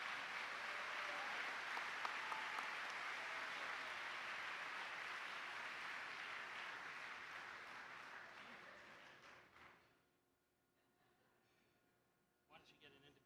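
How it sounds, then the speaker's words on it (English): Sustained audience applause for young education award winners fills roughly ten seconds, dense and steady before fading away, followed by a quiet stretch with faint voices and a brief burst of noise near the end. "Let's give these young people a round of applause."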